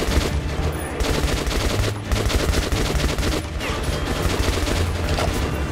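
Sustained bursts of AK rifle fire in the video game Metro 2033 Redux, loud and dense rapid shots layered over combat noise throughout, with no voices.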